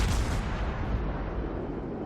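Battleship ARP Kongo firing its guns in World of Warships, a heavy booming blast with a thick rumbling tail that stays loud throughout a short burst, with no voices.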